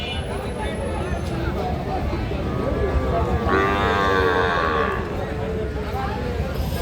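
A cow moos in a long, drawn-out call midway through, amid a busy cattle market selling small bulls and heifer calves, with constant crowd chatter and nearby talking all around.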